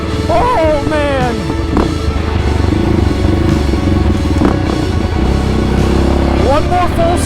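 A Ford Raptor truck launching off-road in second gear, engine roaring steadily and loud close up with wind buffeting and rattling clatter over rough trenches, shifting pitch as it revs, with someone speaking under the noise.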